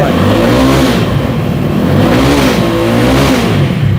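A used motorcycle with about 13,000 km on it runs after a self-start, its engine rumbling loud and close with steady revving and no voices over it.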